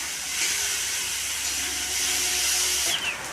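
Water poured into a hot pan of home-style fish curry sends up a steady, close hiss of steam for about three seconds.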